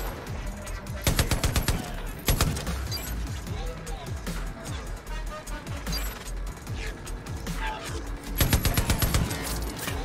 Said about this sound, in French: il me tire dessus de super loin